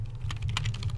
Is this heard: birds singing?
no